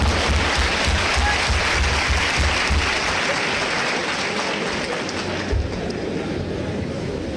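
Sustained applause from a lecture audience at an inaugural course on ethics, dense and loud throughout, thinning slightly toward the end without any speech over it.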